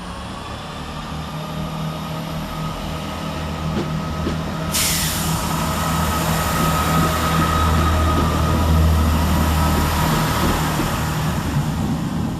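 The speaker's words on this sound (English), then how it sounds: "165020, departs with the 1040 Chiltern Railway service to Leamington Spa" Chiltern Railways class 165 diesel unit 165020 pulls out of Stratford-upon-Avon station, a steady engine drone rising as it accelerates, with wheel and rail noise and a hiss building midway, close and loud, no voices.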